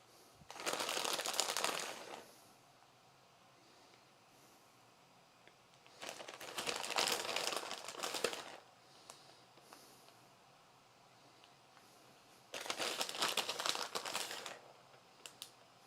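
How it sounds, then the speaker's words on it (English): A resealable plastic bag of frozen food crinkling in three bursts of a couple of seconds each, separated by quiet pauses, fairly faint and close with no speech. "That's how resealable bags should open, just like that."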